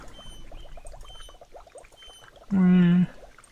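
Water trickles and gurgles through pipes in the video game A Wolf in Autumn in soft bubbling blips, then a loud, steady, droning tone cuts in for about half a second.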